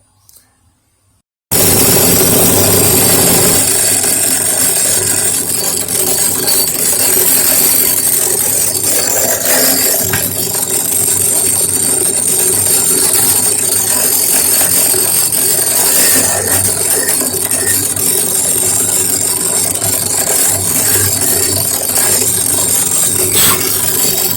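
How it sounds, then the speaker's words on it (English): A power drill, held by hand, runs continuously and loudly after a brief quiet start, grinding steadily through valve material with rattling, uneven mechanical noise. "just going to drill that by hand"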